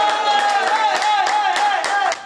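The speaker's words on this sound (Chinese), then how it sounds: "在家里看球赛的戴爸爸也兴奋地拍手叫好" A father at home clapping and cheering while watching a badminton final on TV, with quick rhythmic claps under excited voices for about two seconds before it drops off.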